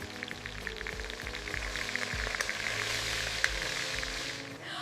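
Chicken pieces for chicken karahi searing over high heat, giving a steady, crackling sizzle with scattered pops and the occasional clink of a utensil.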